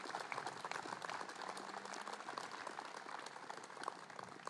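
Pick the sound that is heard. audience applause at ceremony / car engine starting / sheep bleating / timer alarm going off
audience applause at ceremony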